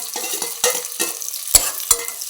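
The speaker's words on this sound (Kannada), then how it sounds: "ನಾವು ಇವಾಗ ಈರುಳ್ಳಿ ಹಾಕ್ತಾಯಿದ್ದೀವಿ" Onions tipped into hot oil and ghee with kasuri methi, cinnamon, cloves and cardamom while making home-style chicken biryani, heard as a close stirring scrape over a soft sizzle, with two sharp clinks of a spoon on the pan.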